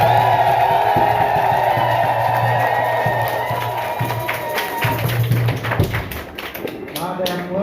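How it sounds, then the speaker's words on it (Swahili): Ululation and applause at a Catholic church ceremony installing new parish leaders at St. Paul the Apostle parish, Mulera, Buhigwe: sustained trilling voices over a crowd, with scattered clapping building toward the end, and voices talking alongside. "Vigelegele na makofi."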